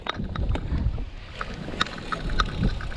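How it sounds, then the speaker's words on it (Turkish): Strong gusting wind buffets the microphone in loud, uneven roars, with some rattling and thumps mixed in. "Ne rüzgar yiyoruz var ya."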